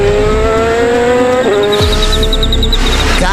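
A cartoon car drives by loud and close with a revving engine and long squealing tire skids, the pitch sliding as it swerves.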